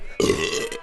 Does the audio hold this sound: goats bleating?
no